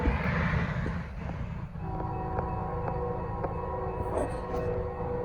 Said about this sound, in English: new locomotive, 8162, leading P09 southbound